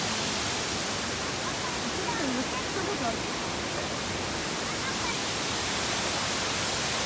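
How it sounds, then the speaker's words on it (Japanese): Heiwa waterfall (Heiwa no Taki) in Japan on a hot day, a steady broadband rush of falling water filling the scene, with people talking quietly over it. "平和の滝。"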